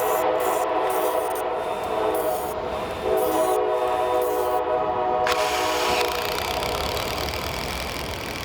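A train rumbles past a backyard construction site, a steady loud rolling drone with long sustained tones throughout, no talking.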